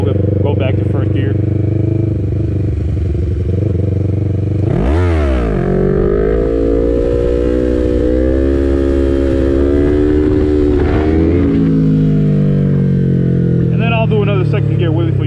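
A 2020 Yamaha MT-03 motorcycle revs up hard for a second-gear wheelie, its engine note climbing sharply, holding high and dropping as it lands, close and loud, with a voice talking over much of it.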